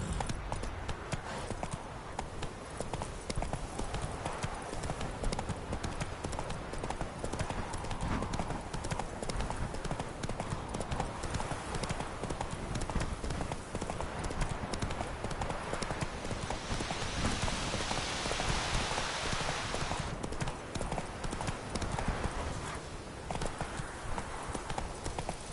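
Roach the horse gallops in The Witcher 3, with a dense, continuous clip-clop of hooves throughout and game voices and ambience mixed in.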